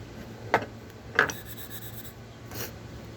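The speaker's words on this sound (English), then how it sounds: "I like to go back over top of it with my Scotch-Brite." A Scotch-Brite pad rubbed across the glass surface of a game call to condition it, a few short close scratchy strokes spaced apart over a quiet background.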